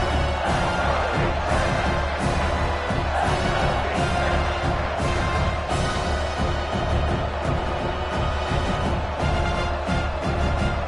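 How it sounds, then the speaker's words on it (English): Dense, steady home-stadium crowd noise in a football video game, a loud continuous roar with rising jeers and booing spread through the whole stretch, no clear voice over it. "If you listen carefully, you can start to hear some of the boo birds coming out from this home crowd"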